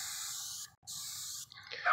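Orange oil air freshener is sprayed onto glue in two steady hissing bursts with a short pause between them, close and fairly quiet, followed by a faint trailing noise.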